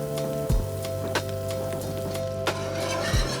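Butter and flour sizzle in a pan as a blonde roux forms for a Creole mac and cheese béchamel, a steady crackling hiss under a constant hum, with a few sharp clinks or taps scattered throughout.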